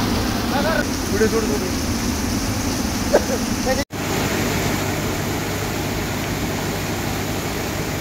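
Floodwater pours over a bridge behind a temple in Karanji, Pathardi taluka, after heavy rain, making a loud, continuous broadband roar that drops out for an instant partway through.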